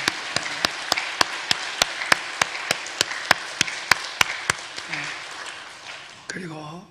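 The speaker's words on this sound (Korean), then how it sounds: "우리 힘차게 감사와 영광의 박수 같이 돌리겠습니다" A church congregation at a Sunday service claps together in a steady, evenly spaced rhythm of sharp beats over a roomy background hum, until the clapping fades and a voice speaks briefly at the end.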